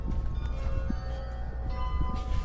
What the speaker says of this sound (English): Hear those bells?